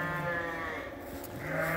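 Sheep on a farm in spring bleat in a short wavering call over steady outdoor background noise, moderately distant, with a second rising bleat toward the end.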